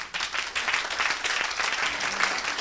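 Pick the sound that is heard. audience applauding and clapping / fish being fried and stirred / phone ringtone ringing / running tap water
audience applauding and clapping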